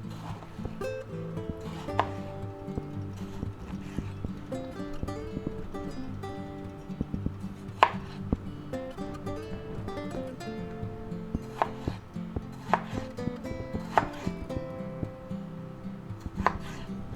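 A sharp knife chops vegetables on a cutting board for veggie spaghetti, with a steady run of crisp, irregular cuts and a few louder thwacks throughout, close up and without speech.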